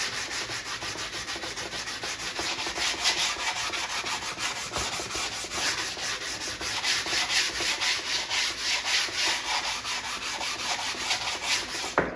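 Arcade control panel laminate being hand sanded with a sanding block, a steady close rasping scrub that runs continuously in rhythmic strokes, with no talking.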